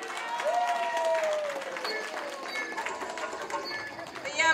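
Applause from an audience at a speaking event, a crowd clapping steadily alongside murmured chatter and a brief whistle-like tone early on.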